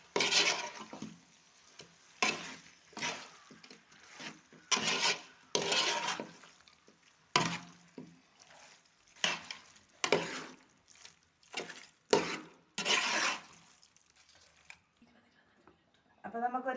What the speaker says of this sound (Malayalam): നമുക്ക് നന്നായിട്ട് ഇറച്ചിയിലേക്ക് നമ്മുടെ മസാലകളെല്ലാം ചേർത്ത് കൊടുക്കാം